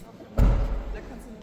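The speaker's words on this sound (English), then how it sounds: "The doors feel heavy and latch firmly in place." A Tesla Model Y car door swinging shut and latching, a single solid low thud that fades quickly, with a voice speaking around it.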